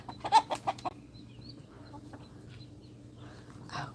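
Backyard chickens, including silkies, cluck in a short burst of several quick clucks at the start, followed by quieter scattered calls, soft and moderately distant.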